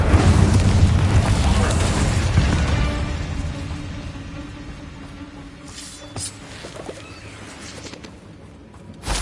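A fire spell cast during combat in the video game Hogwarts Legacy lands as a loud, rumbling burst at the start, then fades into a lower, crackling tail with scattered smaller impacts.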